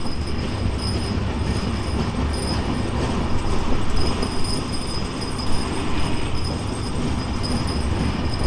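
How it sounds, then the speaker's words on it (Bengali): The Madhumati Express passenger train runs at about a hundred kilometres per hour between Rajshahi and Dhaka, heard from on board as a loud, continuous rumble of wheels with thin, high squealing tones above it. "আমাদের ট্রেন এখন একশো কিলোমিটার গতিতে যাচ্ছে"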